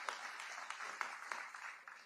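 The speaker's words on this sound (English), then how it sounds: "let's give ourselves a round of applause" Steady applause fills a room at a 40th anniversary luncheon for a fraternity chapter, faint and even with distinct individual claps standing out through two seconds, no voices over it.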